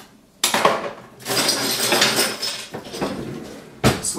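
Metal cutlery rattled and clinked while rummaging through a kitchen drawer for a slotted spoon, with sustained jangling between sharper clatters at the start and end, loud and close with no voices.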